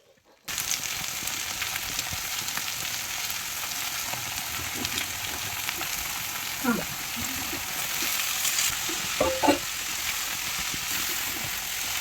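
Cabbage frying with cumin seeds in a pan, a steady close sizzle filling the whole stretch with a few brief scraping stirs toward the end.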